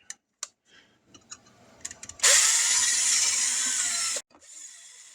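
Tiny 1.35 mm drill bit bores solder out of a wire connector in a brief high-pitched whine lasting about two seconds, preceded by light clicks and taps and followed by a quieter hiss.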